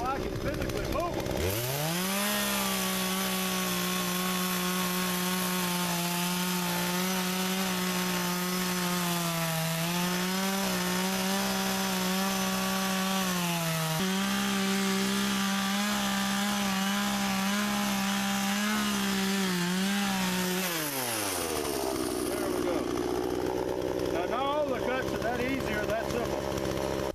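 Chainsaw cutting timber into small pieces outdoors, a loud continuous engine drone whose pitch dips and wavers under load for about twenty seconds before dropping back to idle.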